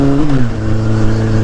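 A motorcycle accelerates to overtake a car on a ride in south-east France, its engine note a steady, close, loud drone that shifts pitch early on.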